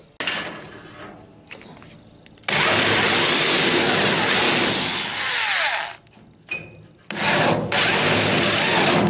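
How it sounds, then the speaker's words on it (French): A power drill whirs loudly in two long sustained bursts with a short pause between, drilling out spot welds in a Citroën Traction 11 BJE body up close, with no speech. "j'ai prépercé mes trous de soudure avec un forêt standard"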